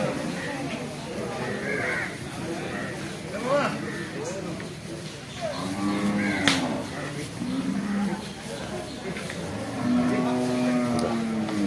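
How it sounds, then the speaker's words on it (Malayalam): Cattle and buffalo at a busy village livestock market low several times at moderate distance, partly buried under steady crowd chatter and general market noise. "കാള"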